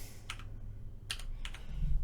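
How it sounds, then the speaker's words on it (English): Short bursts of keystrokes on a computer keyboard while coding an ESP32 microcontroller, three quick clusters of clicks separated by pauses, close and fairly quiet. "I'm like typing in a weird way that's causing tension"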